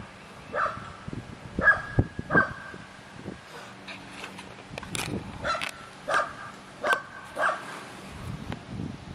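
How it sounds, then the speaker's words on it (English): A dog keeps barking at everything around a lakeside vacation spot, giving a series of sharp, fairly close barks and yips in irregular bursts, with faint rustling between them. "She's still barking."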